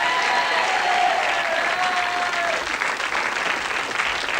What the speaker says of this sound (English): So once again, a round of applause.